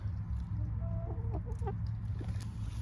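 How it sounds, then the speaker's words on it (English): A homestead chicken clucks softly in a few short, scattered notes, fairly distant, over a steady low rumble of outdoor background noise. "And look, what else I found? A chicken."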